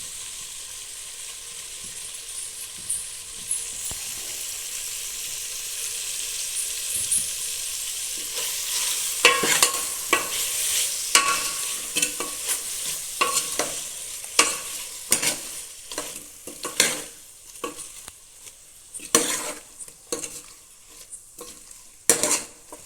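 Sambar ingredients, including turmeric and curry leaves, sizzle and fry in a pan in Telangana-style cooking, with steady frying hiss broken by repeated scraping stirs that grow louder and more frequent partway through.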